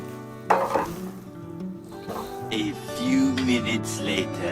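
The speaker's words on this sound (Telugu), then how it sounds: "ఆనియన్ అనేది కలర్ చేంజ్ అవ్వడం స్టార్ట్ అయింది కదా. ఇలానే ఇంకొద్దిసేపు ఫ్రై చేసుకుంటే సరిపోతుంది" Onions fry in a pan, a soft sizzle with irregular scraping and clinking of a spatula against the metal, close by and rising slightly toward the end.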